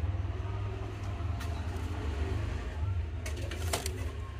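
A golden pigeon that has just laid eggs coos faintly in a low, steady, droning murmur, with a few brief clicks and knocks nearby.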